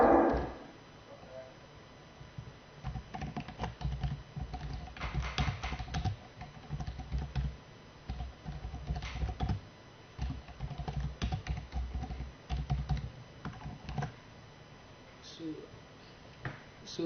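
Computer keyboard typing in bursts of quick close clatter separated by short pauses, with a voice talking in between.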